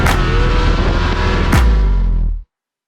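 A car drifts around a race track at a drift meet, its engine roaring loud and close without a break, the note shifting midway before the sound cuts off abruptly.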